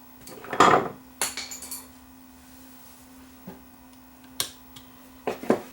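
A clip being refitted on a Sony TC540 reel-to-reel tape mechanism during servicing, heard as a few sharp close metallic clicks and taps with quiet pauses between them.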